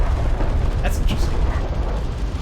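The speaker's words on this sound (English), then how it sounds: "the missile ship barrages are quite a miss as well" Missile ship barrages in Homeworld: Deserts of Khara, a continuous rumbling wash of distant explosions and booms with a few brighter bursts, held under a steady battle roar.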